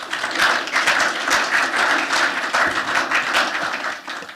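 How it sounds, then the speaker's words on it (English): A forum audience applauds a panel, steady dense clapping from many hands filling the room, loud and close, fading slightly at the end with no talk over it. "please join me in giving a round of applause to the entire panel."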